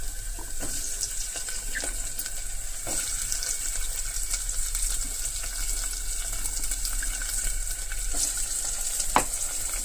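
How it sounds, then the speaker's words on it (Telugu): Chopped ivy gourd and green chillies go into onions frying in oil, giving a steady, close sizzle with scattered clinks and stirring sounds throughout. "ఇప్పుడు ఉల్లిపాయలు వేగిన వెంటనే మనం ఇవి వేసేసుకోవాలి"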